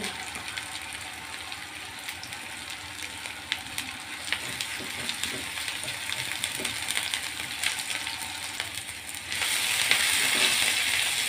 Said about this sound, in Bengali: এখন পেঁয়াজটা হালকা করে ভেজে নেব।